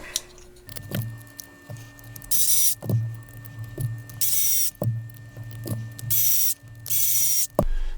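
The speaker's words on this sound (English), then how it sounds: "not run these screws in as fast as you can with the powered screwdriver" A powered screwdriver drives 12mm screws through the motor plate into the bearing case of a Negative G Class 1 RC chassis, sounding in several loud whirring bursts between sharp clicking mechanical ticks, close and without talk.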